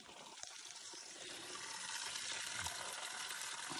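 Water trickles steadily from a trail water source on the Appalachian Trail near Unicoi Gap, a faint, continuous splashing wash with no voices.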